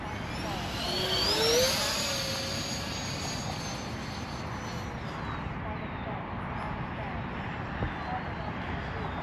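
Freewing F16 64mm 4S electric RC jet flying in wind and rain: a steady whooshing ducted-fan whine that swells in pitch and then eases, with constant rough wind buffeting the microphone.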